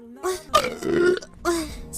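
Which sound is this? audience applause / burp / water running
burp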